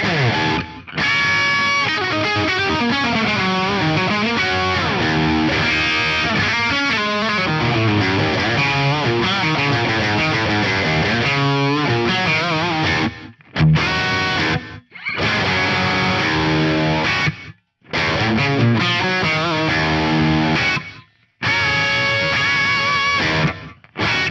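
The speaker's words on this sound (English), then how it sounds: "I really like the gated reverbs in here." A Yamaha REV7 effects unit applies gated reverb to music, a dense, loud wash that cuts off abruptly in several sharp gaps, with no voices over it.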